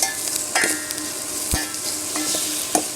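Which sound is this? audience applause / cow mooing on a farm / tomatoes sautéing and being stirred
tomatoes sautéing and being stirred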